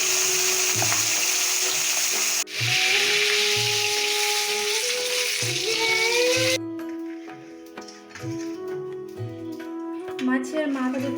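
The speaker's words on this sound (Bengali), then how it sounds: "মাছটা আমি ভেজে নিচ্ছি।" Fish heads rubbed with salt and turmeric fry in hot oil, giving a steady hiss that cuts off about two-thirds through, with music playing beneath.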